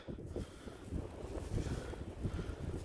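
Wind buffets the microphone on a Dnieper riverbank during metal detecting, a steady low rumbling roar with gusty swells throughout, close and fairly loud, with no speech.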